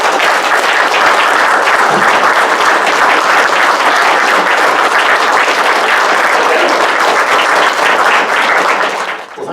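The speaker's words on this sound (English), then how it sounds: "Let's give him a round of applause." A live audience gives sustained, loud applause for a Lincoln scholar at a heritage museum talk, an even, dense clatter of many hands that tapers off at the very end.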